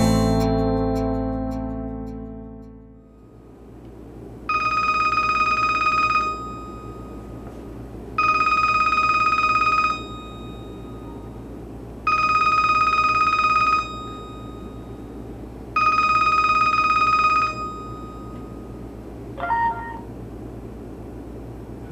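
Telephone ringing four times in even, evenly spaced electronic bursts over a low background hum, followed by a short cut-off chirp.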